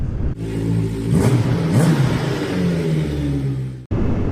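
Vincent motorcycle engine revving loud and close, holding a steady roar, rising through the first gear change before cutting off sharply near the end.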